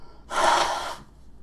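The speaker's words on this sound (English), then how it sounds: "You get to listen to me blow my nose." A single forceful nose blow, a short rushing burst of air lasting under a second, close to the microphone and alone.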